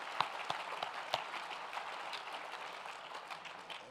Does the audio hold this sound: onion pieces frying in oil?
no